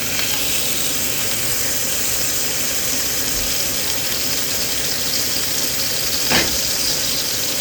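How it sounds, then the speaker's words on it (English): A salted top round steak sears in beef tallow heated past 400 degrees, giving a steady, close, loud hiss and sizzle throughout, with one sharp pop near the end. "We got the beef tallow in here, getting sizzling hot"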